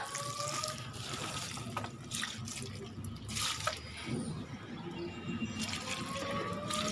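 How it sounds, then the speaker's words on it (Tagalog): Water poured over garden plants such as spider plants and snake plants during hot weather, a steady close splashing and trickling that runs throughout with slight surges and no talk. "Magdidilig lang tayo at magdidilig. Kasi kailangan ng ating halaman ng tubig."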